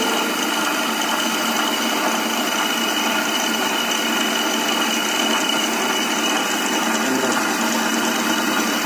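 Steady, dense whirring hum of a lab gyroscope rotor spinning at about 1580 rpm, loud and continuous throughout with no speech.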